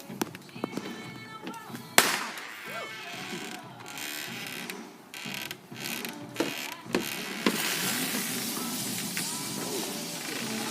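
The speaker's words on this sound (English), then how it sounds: "the fireworks are kind of burning out" Fireworks at a firework show crackle and pop in scattered bursts, with one sharp bang and a denser crackling stretch near the end, while people talk over them.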